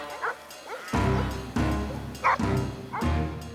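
Several sheepdogs guarding a flock bark and yip in quick bursts as they chase off a wild dog, loud and close, with higher whimpering cries between the deeper barks.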